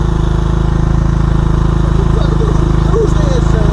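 A Simson motorcycle engine idles steadily close by, a loud, even low putter throughout with a faint passing sound late on.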